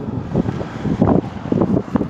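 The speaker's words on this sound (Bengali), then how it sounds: "প্রচণ্ড হাওয়া চলছে এখানে" Strong wind buffeting the microphone at Magnetic Hill in Leh, Ladakh, low rumbling gusts coming in uneven bursts with no voices.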